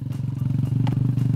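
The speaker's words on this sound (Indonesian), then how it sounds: "Sing penting bisa bonceng Mbak Diva naik motor koyo ngene, Lur." A motorcycle carrying a rider and a passenger putters along close by, its engine giving a steady pulsing drone with light clatter over a short stretch.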